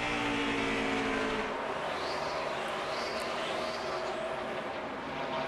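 NASCAR stock cars race around the flat one-mile Phoenix oval during the 2008 Checker O'Reilly 500, a loud roaring engine drone from the pack, with a few cars sweeping past at a distance.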